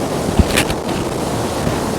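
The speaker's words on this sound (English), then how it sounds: "You can see the waterfalls back there and it's really nice." Rushing water from waterfalls at an outdoor spot in Seoul, a steady broadband wash with wind buffeting the microphone and a couple of brief low bumps, no voices.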